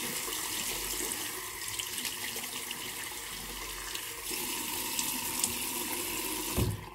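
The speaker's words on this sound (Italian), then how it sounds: "tiro un po' d'acqua." Tap water runs steadily into a basin during a hot shave, a soft continuous splashing hiss that shifts slightly midway and ends with a brief louder burst.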